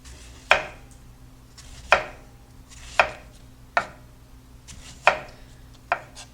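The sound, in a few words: slicing cucumbers thinly with a knife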